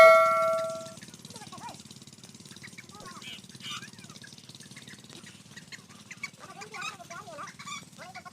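Desi chickens clucking in a village setting, scattered short clucks and squawks that are fairly faint over a low background hum, following a brief chime at the start.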